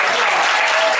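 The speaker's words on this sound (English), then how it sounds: "Give her a round of applause." An audience bursts into applause honoring a woman at a gathering, dense steady clapping throughout a brief moment.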